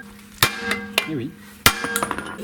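A hammer strikes a Peugeot 206 CC suspension part during work on the car's Bilstein B6 setup, three sharp metallic blows spaced irregularly with smaller clinks and a brief voice between them.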